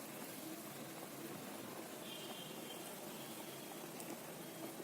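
A finger millet (ragi) ball mixture simmers in a pot over a medium flame, giving a faint, steady bubbling hiss with no voices.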